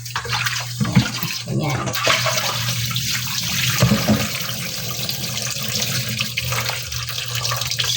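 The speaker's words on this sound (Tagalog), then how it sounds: "hugasan ko muna yung manok na iluluto natin" Tap water running steadily into a sink while raw chicken is washed in a home kitchen, a continuous splashing hiss with a low hum beneath and occasional thumps of handling, as someone briefly speaks.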